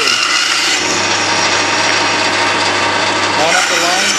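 A bandsaw cutting square wooden pen blanks two at a time on a small jig makes a loud, continuous whirring rasp with a steady motor hum underneath, holding at the same level for the whole stretch.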